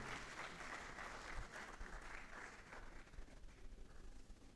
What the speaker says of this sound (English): Let's put our hands together once again for them.